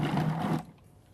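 A Cuisinart 14-cup Elite food processor kneads dough with a loud, close motor whir and a rumbling tumble in the bowl, then stops abruptly about halfway through, leaving near silence.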